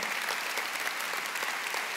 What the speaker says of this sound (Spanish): ¿cómo ven si le damos un fuerte aplauso a todas las personas que nos acompañan ahorita en línea también?